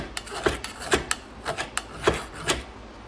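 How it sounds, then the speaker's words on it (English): A metal file rasps off burrs in short, repeated strokes on blacksmithed metal, about eight scrapes at an uneven rhythm, close and crisp with no talking. "you want to knock those burrs off with a file"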